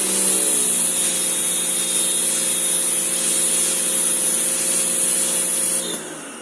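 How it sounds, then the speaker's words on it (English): An electric water pump on a mobile detailing trailer kicks on and runs steadily under demand while a pressure washer operates, a loud continuous whine and hum that drops off abruptly near the end. "when there is a demand, you can hear the pump activates."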